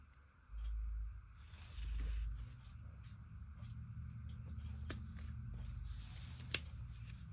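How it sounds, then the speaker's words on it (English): Double-sided tape being peeled off while sewing a crossbody bag, with two soft rasping pulls early on followed by quieter rustling and faint handling noises, close up and quiet. "I'm going to remove the double-sided tape."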